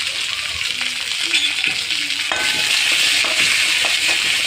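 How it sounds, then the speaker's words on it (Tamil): Chopped big onions sautéing in sesame oil with mustard seeds and curry leaves for a mushroom gravy, a steady close sizzle with scraping stirs and a few light utensil taps, no talking. "பெரிய வெங்காயம் கட் பண்ணி பெரிய வெங்காயம் போட்டு நல்லா வதக்குங்க"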